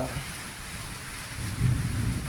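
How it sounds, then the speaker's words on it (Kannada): Steady rain falls at Siddhantapura after a Shiva puja held to bring rain, with a low rumble of thunder swelling near the end beneath the constant wash of rainfall. "ಅದರಿಂದ ಮಳೆ ಈಗ ಸ್ಟಾರ್ಟ್ ಆಗಿದೆ"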